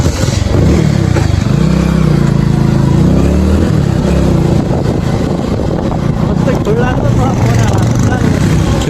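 A motorbike engine runs steadily while being ridden, a loud, close, continuous drone with rough clattering texture, and voices talking over it.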